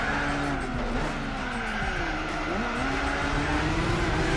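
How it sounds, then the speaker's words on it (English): Gran Turismo 4 race car in a one-make Club "RE" race spinning its wheels, a continuous engine whine with pitch sweeps and tire squeal layered over it, steady and loud, with no voices. "Getting a little wheel spin there."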